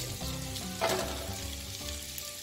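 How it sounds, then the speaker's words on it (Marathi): Hakka noodles stir-fried in a hot pan for a Schezwan noodle dish, a steady close sizzle with scraping stirs and a brief louder toss midway. "आपल्याला चांगल्या प्रकारे हक्का नूडल्स परतून घ्यायचे आहेत।"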